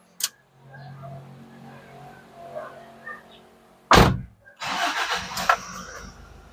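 A diesel engine in a 2017 Toyota HiAce Commuter van cranks briefly, then catches and settles into a loud, rough idle close by.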